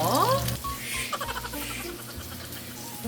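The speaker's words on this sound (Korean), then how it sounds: "볶고 있습니다." Pork loin cutlet pieces fry in a pan, giving a steady close crackling sizzle that continues throughout, with a short burst of speech at the start.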